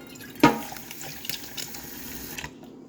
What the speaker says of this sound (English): we first start with adding some hot soapy water to a bowl